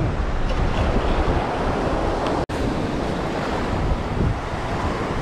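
Ocean surf rolls steadily onto a beach in a dense, continuous wash, with gusts of wind buffeting the microphone and no talking.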